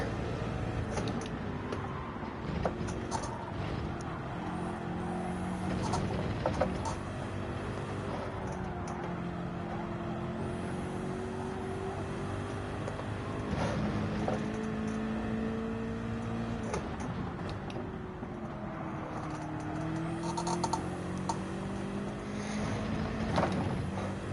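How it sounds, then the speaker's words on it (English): Gran Turismo 7 GT3 race car straining in fifth gear at high revs, a steady droning engine tone with rising and falling pitch sweeps over about twenty-four seconds, loud and continuous with faint background noise. "Fifth gear, over revving the thing."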